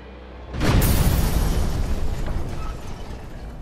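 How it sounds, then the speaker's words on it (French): A plastic-explosive bomb detonates inside a meeting room in July 1944, a sudden loud blast about half a second in, followed by a long rumbling, fading roar. "Une bombe explose."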